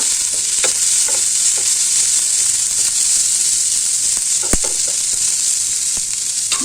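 Onion, cabbage and carrot sautéing in a pan for a vegetable shawarma filling, a loud, dense, continuous sizzle with occasional scraping ticks from stirring, no talking.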